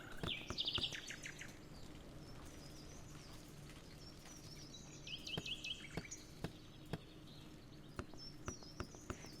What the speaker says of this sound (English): I'm hearing some loud-ass bird noises every once in a while.